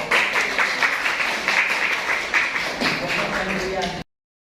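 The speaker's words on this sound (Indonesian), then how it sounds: "Tepuk tangan untuk kelompok 1." Classroom applause for a student group in a Year 11 mathematics lesson: a steady patter of many hands clapping together for about four seconds, then an abrupt cut to silence.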